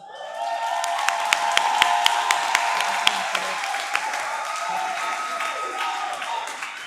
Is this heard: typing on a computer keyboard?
no